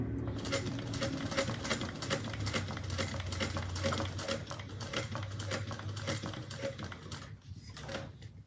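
Back stitching on a sewing bag, a sewing machine runs close with a rapid, even mechanical clatter that continues for most of the stretch and eases off near the end.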